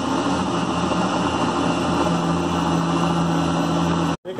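A stand mixer kneads semolina pasta dough made with white wine and saffron, producing a loud, steady motor drone with a constant churning hum that holds close and unbroken until a brief cutoff near the end.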